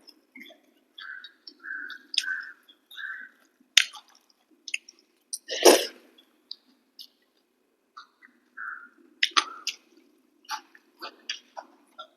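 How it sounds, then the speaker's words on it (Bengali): Raw green chili being mixed by hand in a home kitchen: soft, wet squishing and dripping sounds come in scattered short bursts, with birds chirping in the background. "এই লঙ্কাটা মেখে নি, কাঁচা লঙ্কাটা"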